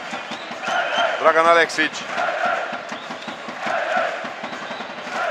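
The Szolnok home crowd at a basketball game roars and chants in a final push, a dense continuous cheer with rhythmic claps, while a commentator's voice speaks over it.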